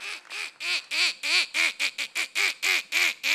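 A voice mimics a duck with a rapid series of about a dozen nasal quacks in an even, bouncing rhythm, close and clear with no other sound around them.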